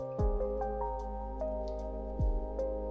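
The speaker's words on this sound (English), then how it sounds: "hear the sound of the water" Water drips and trickles gently into a garden water feature pool, with sparse plinking drops over a low steady hum, quiet and close.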